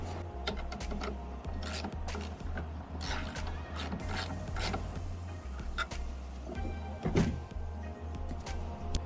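Bolts being worked loose from a centrifugal blower used in wastewater treatment, with clicking, ratcheting taps repeating over a steady low machine hum, close and fairly loud throughout.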